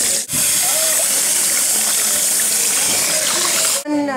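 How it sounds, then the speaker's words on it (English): Warm water runs steadily over hair during a perm rinse, a continuous broadband gush that stays loud and even for nearly four seconds before a brief break. "You want to rinse with warm water."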